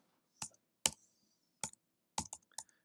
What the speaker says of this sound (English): So I'm going to type in science.